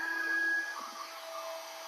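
A hairdryer blows steadily onto wet poured acrylic paint, a continuous close whooshing hum with a faint high whine that holds level throughout.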